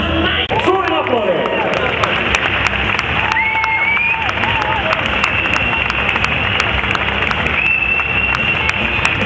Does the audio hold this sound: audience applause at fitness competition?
yes